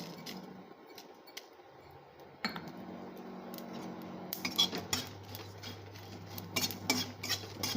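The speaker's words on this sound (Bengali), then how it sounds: "চার পাঁচটা শুকনো লঙ্কা একটু শুকনো খোলায় টেলে নেব এর মধ্যে একটু জিরে দিয়ে দেবো" Dry red chillies and cumin roast in a dry pan, producing light metallic clinks and scraping as they are moved around. The sound is quiet and sparse at first, then becomes busier partway through.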